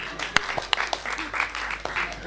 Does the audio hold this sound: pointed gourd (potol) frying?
no